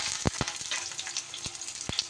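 Pointed gourd pieces frying in salted hot rice bran oil, a quiet sizzle broken by a few sharp pops and knocks over about two seconds.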